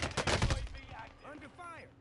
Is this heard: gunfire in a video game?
yes